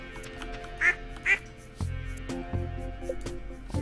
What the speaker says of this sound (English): we need more ducks